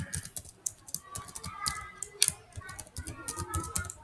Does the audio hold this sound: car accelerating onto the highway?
no